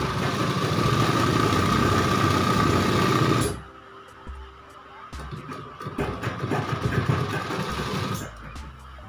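A sewing machine stitches fabric for a girl's midi dress, its motor whirring loud and steady, then cutting out abruptly before resuming in a lighter, uneven run of stitching.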